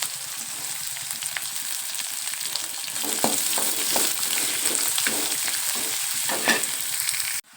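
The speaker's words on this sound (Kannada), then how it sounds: "ಸ್ವಲ್ಪ ಕೆಂಪು ಹಂಗೆ ಹುರ್ಕೋಬೇಕ್ರಿ ಎಣ್ಣೆ ಒಳಗೆ." Chopped onions and curry leaves fry in hot oil with a steady, loud sizzle that brightens partway through, broken by occasional stirring scrapes, and no voices.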